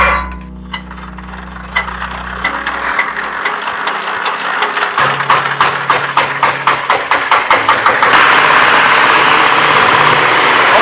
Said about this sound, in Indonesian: hidupin aja mas, proses choppernya kita hidupin. Proses penggilingan